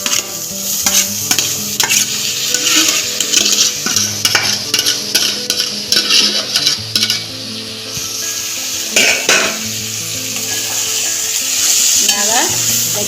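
Boiled jackfruit curry is frying in a pan, with steady stirring scrapes and clinks over a constant sizzle, loud and close, with music-like tonal layers running underneath.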